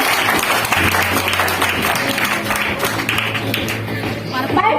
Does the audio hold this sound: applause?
yes